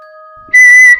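A person whistles a single bright, steady note while closing a gate, loud and close, preceded by a faint sustained tone and quiet shuffling.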